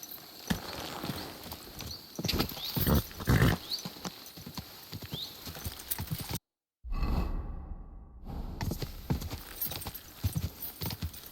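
Horse hooves clatter past in Kingdom Come: Deliverance II, a quick galloping clip-clop rising and fading, broken by a moment of silence, with ambient game sounds and no talking.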